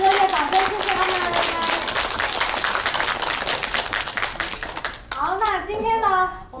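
A crowd at a school thanksgiving showcase claps for visiting Filipino performers, a sustained, fairly loud wash of many hands that ends after about five seconds as a host starts speaking.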